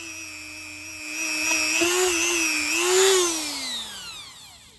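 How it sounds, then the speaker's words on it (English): A Dremel rotary tool with a small wire wheel runs steadily while cleaning threads that hold a quick change tool post on a 14-1/2 inch South Bend lathe, giving a loud high whine whose pitch wavers and then winds down. "I have a small wire wheel here that I use on my Dremel, and I'll use that to clean up these threads"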